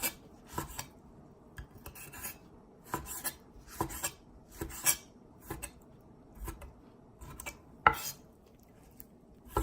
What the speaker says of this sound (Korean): 데친 오징어를 이제 썰을 거예요